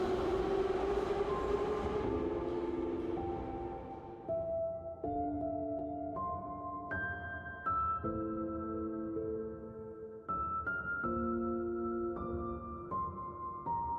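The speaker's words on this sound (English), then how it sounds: "The train was real." A train passes in the video game 1000xRESIST with a loud rumbling rush that fades, then gives way to a series of sustained tonal chords stepping up and down.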